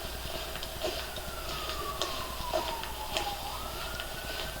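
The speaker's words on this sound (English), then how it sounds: "I hear the ambulance." An ambulance siren wails faintly in the distance during an ice storm in Michigan, a slow rising and falling tone under steady wind-like background noise.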